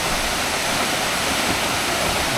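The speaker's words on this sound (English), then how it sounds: "that's the waterfall from the bottom" A waterfall on the Pakse Loop in Laos, heard from its base, gives a loud, constant roar of rushing water with no voices over it.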